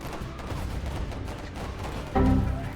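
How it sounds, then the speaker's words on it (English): Battle noise from a World War strategy video game with incoming grenades and gunfire: a steady rumble of distant shooting, then a louder explosive boom near the end. "All grenades are coming in as well"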